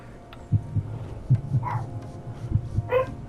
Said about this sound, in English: okay, that sounds like a heartbeat